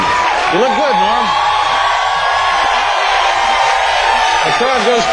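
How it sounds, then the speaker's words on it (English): Studio audience on a late-night talk show cheering, whooping and yelling for comedian Norm MacDonald's entrance, a loud, continuous crowd roar with whoops rising above it. "The crowd goes crazy."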